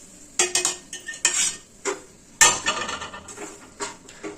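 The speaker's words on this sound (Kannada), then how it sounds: "ರವನ ಇದ್ರಲ್ಲಿ ಹಾಕಿ ಎಣ್ಣೆಯಲ್ಲಿ ಹುರ್ಕೋಬೇಕು" Semolina (rava) stirred and roasted in oil in a pan for fenugreek upma, with a spoon scraping and clinking against the metal in irregular strokes, close up and without talk.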